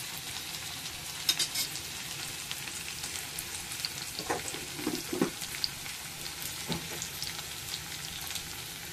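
Onion roasting in a pan while dubuk vade is prepared, a soft steady sizzle with occasional faint crackles and a few quiet stirring scrapes.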